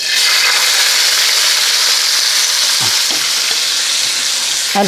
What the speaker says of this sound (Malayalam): ഈ രണ്ട് സവാള എണ്ണ ചൂടായ ശേഷം ഇതിൻ്റെ അകത്തോട്ട് ഇട്ട് കൊടുക്കുകയാണ്